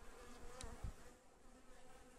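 Honey bees hum steadily inside an open brood box among the frames, a soft, continuous buzzing with no voices, with a brief brighter flare near the middle.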